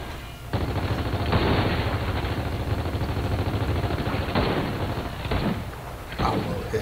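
Gears of War 4 gunfire, a sustained loud burst of rapid shots for several seconds with a few sharper cracks near the end, and some talk mixed in.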